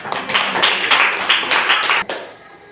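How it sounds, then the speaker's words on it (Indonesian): Audience applauding a student group at a teacher performance exam presentation, a dense burst of hand clapping that stops abruptly near the end, leaving a faint room tail. "Beri tepuk tangan untuk kelompok."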